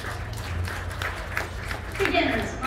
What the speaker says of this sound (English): let's give our juniors a round of applause